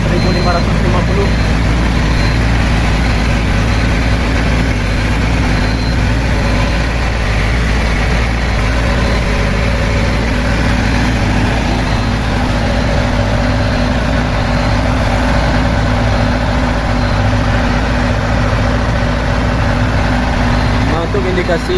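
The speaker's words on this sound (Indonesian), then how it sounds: "Nanti akan kita monitor lagi kondisi RPM mesin atau putaran mesin per menit" An Isuzu 42 kVA silent generator, under repair after rat damage, idles at about 1550 rpm with a steady, loud, continuous low engine drone and hum that holds unchanged throughout.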